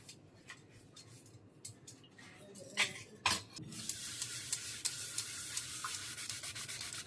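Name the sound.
washing dishes with Pitambari powder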